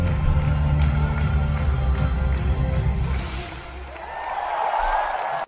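A Eurovision semi-final audience cheers loudly for Poland's LUNA performing The Tower, with a broad roar of crowd noise and whoops that dips briefly before swelling again near the end.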